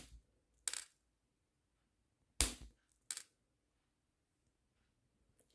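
Wire cutters snip through wire in three sharp, separate clicks, close and crisp against near silence, with a faint tap at the end.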